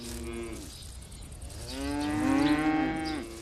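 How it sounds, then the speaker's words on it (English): Cattle grazing in a village pasture low loudly and close, a long drawn-out moo that swells toward the end over quiet outdoor background, with no talking. "The cattle that graze here groom the land in a natural way."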